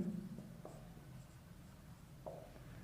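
Chalk or marker scratching on a board during a Hindi mathematics lecture on quadrature, with a few brief, faint strokes over a quiet room hum and no talk.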